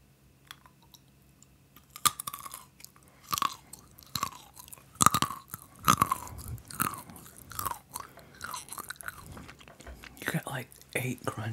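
Crunchy mixed peanuts chewed close to a microphone in an ASMR eating session, a quiet room with bursts of sharp crunches in an irregular rhythm, about a dozen bites and chews over several seconds.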